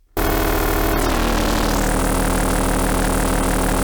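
Buzzing psytrance FM synth tone that suddenly swells into a dense, wavering, drifting drone, rough and pulsing like a running engine, loud and steady.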